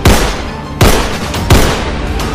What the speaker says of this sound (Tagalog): Inagaw niya ang baril ng driver at sa mismong driver niya ito ipinutok.